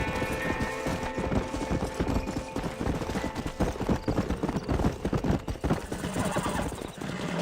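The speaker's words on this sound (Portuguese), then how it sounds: "Mais um cavalo selvagem" A wild horse in the video game Red Dead Redemption gallops with steady, dense hoofbeats and lets out a neigh, loud and close, against game ambience.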